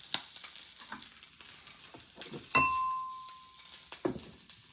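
Sausages frying in oil in a frying pan, a soft continuous sizzle punctuated by stirring scrapes and a sharp metallic clink that rings briefly, with a few more light taps.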